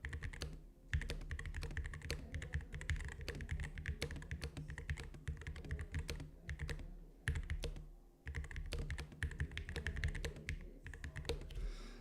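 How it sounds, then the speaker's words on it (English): A Knob One mechanical keyboard is typed on in a fast, continuous run of deep, thocky keystrokes, close and clear, with brief pauses between bursts. "I'll give you a little type test."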